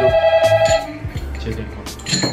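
A phone ringtone chirps in a quick pulsing pattern for under a second. Assorted handling noises follow as the call is picked up.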